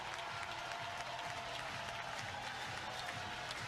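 A roaring stadium crowd at a Texas vs Oklahoma college softball game cheers and applauds steadily after a bases-loaded walk, a dense, continuous wall of noise with no pauses.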